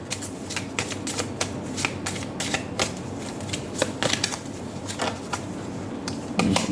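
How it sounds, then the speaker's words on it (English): Tarot cards are handled and drawn from a deck, giving a series of crisp, close card snaps and flicks at an uneven rhythm over a low room hum. "So I'd like to take out one card from here as well."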